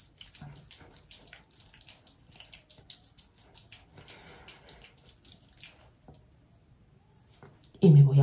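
Bathroom tap water running steadily at a sink as a woman washes her face during a nighttime facial routine, a soft continuous hiss with faint splashes, quieter near the end before a louder burst.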